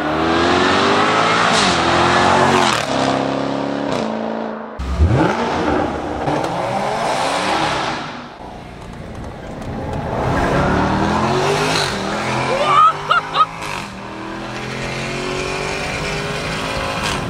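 A 640-horsepower Jaguar Project 8 engine revs hard and accelerates, its roar rising and falling through several loud bursts, with a few sharp pops near the end.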